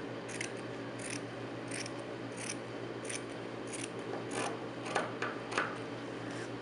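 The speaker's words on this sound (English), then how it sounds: "I'm going to go ahead and start by cutting off about a 1-inch strip off the end." Scissors cut a strip of felt in a rhythmic series of soft, close snips, roughly a dozen crisp cuts over a quiet steady background hum.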